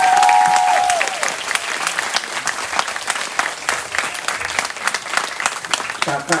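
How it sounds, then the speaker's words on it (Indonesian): An audience claps after a presentation at a Legong Peliatan-style Balinese dance workshop. The applause is dense and sustained, with a brief tone at the start, and keeps a fairly even level throughout. "sekali lagi tepuk tangan untuk adanya"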